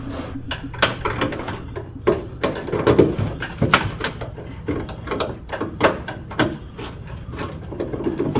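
Wrench being turned to undo the gas tank strap bolts on a Buick, giving a steady run of small metallic ratcheting clicks and clanks at close range, with no talking.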